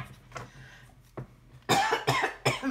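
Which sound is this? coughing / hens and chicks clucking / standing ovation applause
coughing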